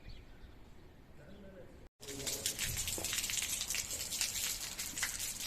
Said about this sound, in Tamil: இங்கே நல்ல மழைங்க குளிர் மழை